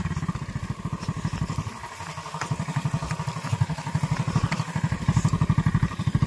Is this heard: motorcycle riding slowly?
yes